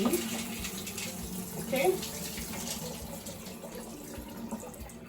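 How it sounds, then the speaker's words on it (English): Water from honey beans drains steadily through a sieve, a continuous close rushing splash with a brief stronger gush partway through, as a voice speaks briefly at the start. "I'm going to remove the water into this sieve"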